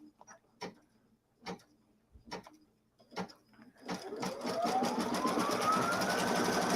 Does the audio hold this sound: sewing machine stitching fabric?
yes